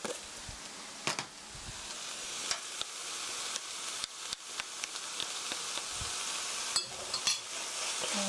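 Doenjang soybean paste stir-fried in a pan, a constant close sizzle broken by scraping stirs and occasional taps of the utensil against the pan.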